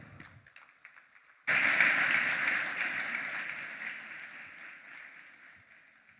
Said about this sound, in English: please join me for opening this session in a warm round of welcoming applause